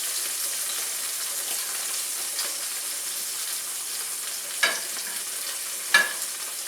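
Chicken pieces frying in a pan, giving a steady, close hiss of sizzling oil, with two short sharper pops or spatters standing out near the end.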